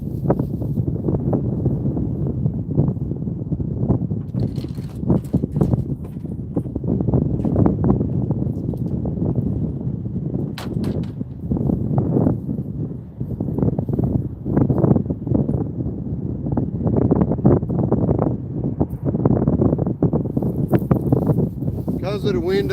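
Wind buffets the microphone at a largemouth bass fishing pond, a steady low rumble that runs throughout beneath someone talking.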